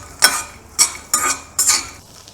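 Handful of peanuts dry roasting in a small kadai, stirred with a metal utensil: four distinct scraping, rattling strokes about half a second apart, close and fairly loud, with no talk.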